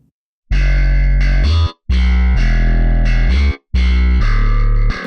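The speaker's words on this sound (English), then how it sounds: "that's how I like to get really nice, consistent big bass" Distorted, band-passed bass in a pop/country/metal fusion production plays as three loud, sustained phrases with short gaps between them, thick and saturated with a chorus-like sheen.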